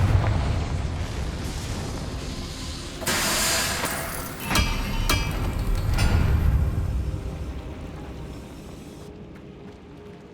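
In the video game Hogwarts Legacy, a Confringo fire spell bursts into rumbling explosions. Two sharp blasts land a second or so apart over a low, roaring background, then fade into a lingering rumble.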